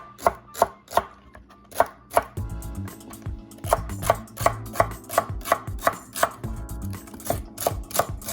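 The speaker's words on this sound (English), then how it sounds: "You slice the celery down the center." Knife chopping celery lengthwise down the center on a cutting board, sharp regular thuds in quick rhythmic bursts, close and clear with no voices.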